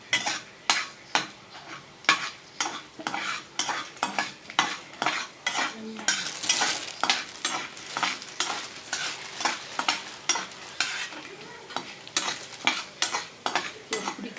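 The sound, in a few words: chana dal and dried red chillies roasting, stirred in pan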